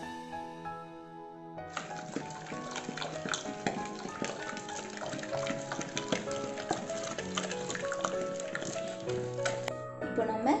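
Cooked green gram mashed in a pot with a wooden churner, giving quick, rhythmic knocking and clacking that stays close and continuous throughout.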